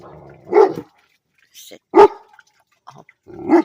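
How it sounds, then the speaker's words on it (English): A livestock guardian dog lets out several deep, loud barks spaced irregularly, close by, with a faint growl and quieter sounds in the gaps. "livestock guardian dog, so he's very alert to any noise that he perceives as a threat"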